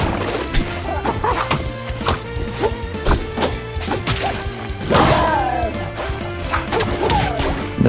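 Forward smash attacks landing in Rivals of Aether during an online Ranno versus Orcane match, heard as a series of sharp whacks and thuds with game effects layered over a busy, loud background.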